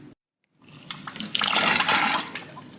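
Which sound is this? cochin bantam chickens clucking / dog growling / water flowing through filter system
water flowing through filter system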